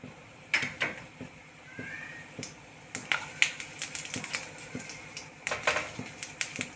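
Mustard seeds pop in hot oil while tomato idli is being prepared, giving faint, irregular sharp crackles and snaps that quicken into scattered bursts.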